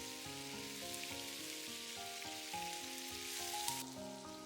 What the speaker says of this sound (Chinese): 另起锅加入少许的食用油，油热以后把我们切好的豆腐下锅